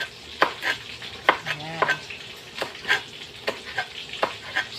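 Food sizzles while frying in a pan, with a utensil scraping and stirring in repeated strokes throughout. A person speaks briefly.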